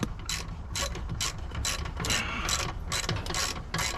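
A hand ratchet tightens a bolt on a Honda Rebel motorcycle, giving a close, steady run of sharp metallic clicks in quick, even bursts with short pauses between strokes.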